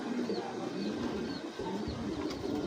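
A racing pigeon coos softly and repeatedly amid dense background chatter of other birds, fairly faint and close, in a short burst.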